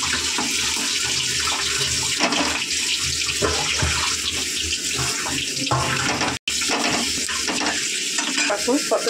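Eggs frying in oil in a home kitchen, a continuous close sizzle with scraping and stirring rattles and a brief cut partway through, no one speaking.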